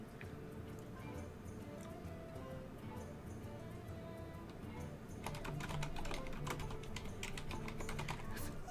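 Loud, rapid typing on a computer keyboard during a Hearthstone tournament broadcast, with dense clicking keystrokes throughout that grow busier and sharper in the second half, over a low background hum.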